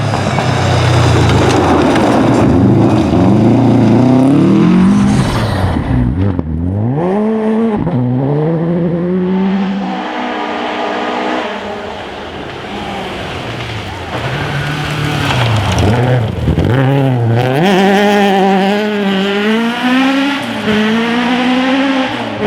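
An R5 rally car charges through a special stage of the 2021 Woodpecker round of the Welsh Rally Championship, its engine loud and close, rising and falling through gear changes and lifting off for corners.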